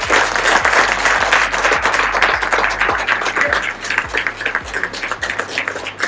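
An audience claps together in a dense, sustained round of applause with sharp individual claps that gradually thin out and soften toward the end.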